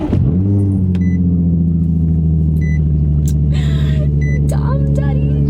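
Infiniti G35 fitted with test pipes, driving, with a loud, steady, deep exhaust drone and engine rumble throughout and a few short electronic beeps and chimes from the cabin.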